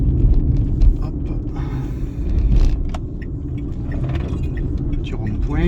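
Dacia Spring electric car driving on an open road, a steady low road and tyre rumble with faint interior creaks and rattles throughout, while a voice talks over it.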